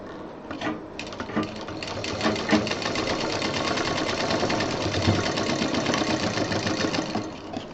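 A sewing machine stitching fused handbag fabric, a fast, even mechanical chatter running steadily for several seconds, close and fairly loud, easing off at the end.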